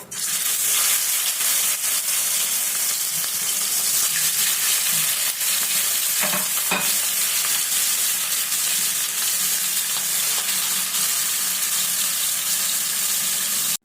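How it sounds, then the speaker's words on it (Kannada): Marinated chicken frying in oil in a pan, a continuous dense sizzle and crackle that stays loud and close throughout with no talking. "ಹಾಕ್ಕೊಂಡು ಅದನ್ನು ನೀಟಾಗಿ ಫ್ರೈ ಮಾಡ್ಕೊಳ್ಳೋಣ."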